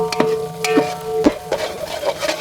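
Ginger sizzling and frying in a pan for chicken curry, stirred with a few scrapes and clinks of a utensil against the pan over a steady fry.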